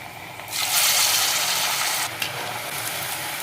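Urad dal vada dropped into hot oil, a sudden burst of loud bubbling sizzle that keeps crackling steadily, then eases slightly after a brief clatter, near and with no voices.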